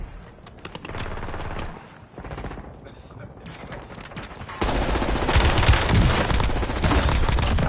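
Rapid bursts of nail gun fire in Call of Duty Warzone, repeated mechanical shots in quick succession, growing louder and denser toward the end, with voices talking underneath.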